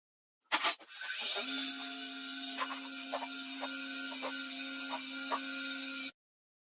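Steady grinding whine of a drill bit being sharpened on a bench grinder by an electrician, one continuous sustained tone lasting several seconds with faint rhythmic ticks, loud and close with no talk.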